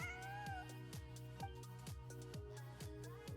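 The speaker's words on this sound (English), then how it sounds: "I want to pet a cat. Who's a good kitty?" A cat meows in a video game over steady, rhythmic game music. The meows are faint and sit beneath the music, and no one speaks.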